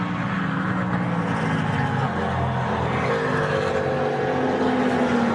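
Race cars at the Rolex 24, among them the Samax Pontiac Riley prototype, power onto the banking, their engines a continuous loud roar that holds without a break.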